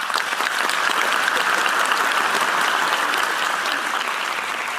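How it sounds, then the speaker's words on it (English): Thunderous applause from a large audience at a Christmas Eve reading, dense and steady clapping that fills the room at full volume and holds for the whole stretch without letting up. "soon that sigh and silence was replaced by a thunderous"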